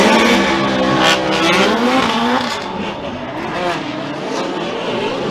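Drift cars battle at Formula Drift in Palm Beach, with loud close engines howling and tires squealing in a long smeared skid as revs rise and fall.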